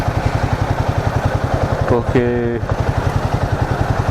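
A Royal Enfield Himalayan 450 motorcycle is ridden, its engine thumping in a steady, even pulse close by throughout, with someone speaking briefly over it.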